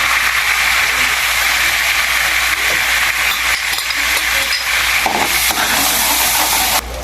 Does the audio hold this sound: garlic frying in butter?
yes